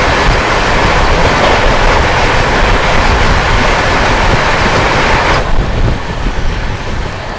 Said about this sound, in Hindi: सामने से आती हुई न्यू दिल्ली बनारस वंदे भारत एक्सप्रेस।